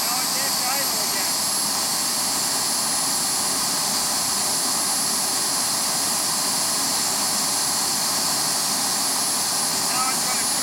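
Fiber Classics Kangaroo model jet turbine at idle, giving a steady, loud, continuous high-pitched whine with a broad rushing hiss that holds even throughout.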